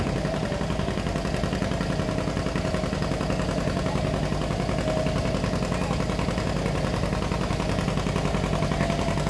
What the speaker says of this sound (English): Jim Wistehuff, Manitou, Illinois, the John Deere B. Another good looking tractor coming at us right here